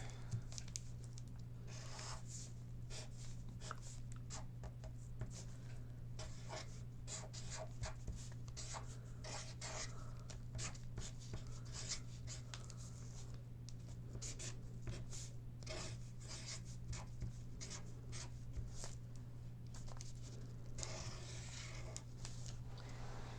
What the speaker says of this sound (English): And on the front of my brown large paper bag, I'm going to write fishing for a coin.